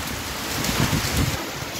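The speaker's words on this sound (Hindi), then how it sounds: "देखिए कितने बड़े ओले, देखो" Large hailstones fall during a storm in Dehradun, making a dense, continuous rushing patter with some heavier low thumps swelling in the middle. No one speaks.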